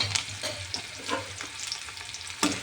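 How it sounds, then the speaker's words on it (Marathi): Roasted peanuts and a little onion sautéed in a hot pan for a Maharashtrian breakfast dish: a continuous close sizzle with scraping stirs and small crackles, no voices. "थोडेसे शेंगदाणे घालायचे, शेंगदाणे भाजलेले आहेत। त्याला छान आपल्याला परतून घ्यायचे।"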